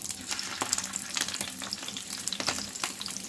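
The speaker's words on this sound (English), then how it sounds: "Fry na natin ang frying sausage." Bratwurst sausages sizzle and crackle in a hot pan, a steady frying hiss with scattered sharp pops and occasional stirring.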